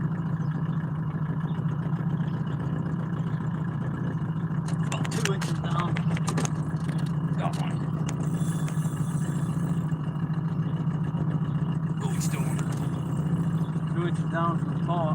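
A boat engine idles steadily while trolling on Lake Arthur, a constant low mid-pitched hum that runs unbroken throughout, with occasional brief clicks and rattles near the boat and a voice speaking at times over it.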